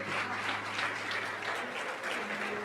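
Church audience applauding in a sustained wash of clapping, moderately distant and even, with a low steady hum beneath and faint voices.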